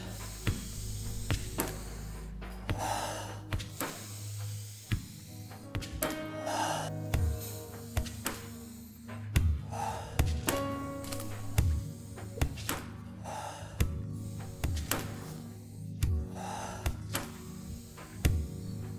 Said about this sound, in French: Je vous invite à commencer avec une grande inspiration. Et on relâche.